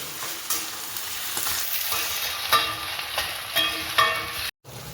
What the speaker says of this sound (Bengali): এবার আমি এই চিকেনগুলোকে এই পেঁয়াজের সঙ্গে একটু ভেজে নেব।